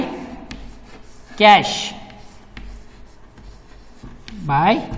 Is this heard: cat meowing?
no